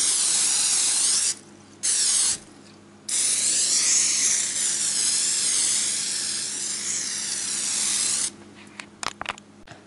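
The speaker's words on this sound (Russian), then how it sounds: "Теперь я беру форму и сбрызгиваю ее маслом" Oil sprayed from a pump bottle onto a baking mould: a few long, loud, close hissing bursts with short pauses between them, followed by faint clicks.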